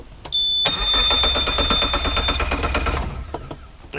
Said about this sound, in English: Crank it over.